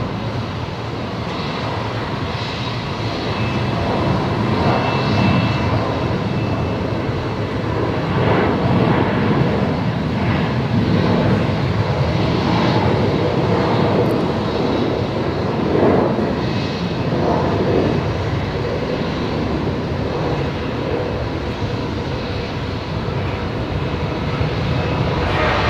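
Velocity flight 1398, an airliner bound for Adelaide, rolls and takes off from an Alpha 7 intersection at Brisbane Airport with a long, steady, loud engine roar and rumble that builds gently and holds throughout.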